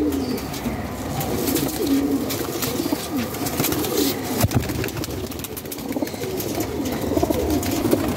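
Qasoori pigeons in a loft give repeated low, throaty coos that overlap continuously, close and fairly loud, with faint rustling and occasional soft chirps in the background.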